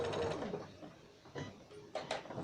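A domestic sewing machine stitches a quarter-inch seam in a short, close burst of mechanical whirring and clatter. Small stops and restarts break up the run, and no one talks.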